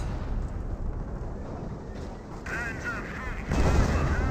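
An artillery barrage in the real-time strategy game Company of Heroes, with dense booming blasts and rumbling impacts mixed under a commentator's voice.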